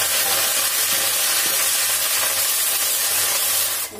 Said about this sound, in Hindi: मीठी नीम बहुत अच्छे से फ्राई हो जाएगी